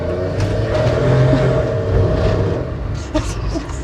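A 48-horsepower Nissan Clipper NT100 kei truck with a conventional automatic gearbox pulls away on a road, its small engine droning and rising from inside the cab, near and fairly loud.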